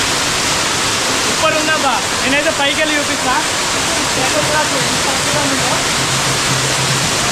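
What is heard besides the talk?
waterfall at Katiki Waterfalls, Araku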